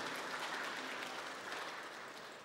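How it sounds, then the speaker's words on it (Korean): A church congregation claps in welcome during a Sunday worship service: a dense, continuous wash of many hands, fairly soft and distant, holding steady for the whole stretch with no voices over it. "환영의 박수 드리겠습니다."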